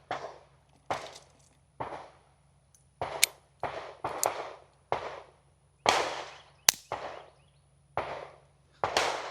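Suppressed .22LR rounds fired through a LifeCard pistol with a B&T Print X suppressor, about a dozen sharp, quiet cracks spaced roughly a second apart, each with a short decaying tail, over a faint steady hum.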